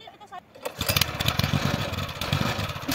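A motorcycle engine starts and runs in a rural cardamom-plantation setting, catching after a brief quiet moment and settling into a loud, close, rapid putter, with speech heard briefly near the start.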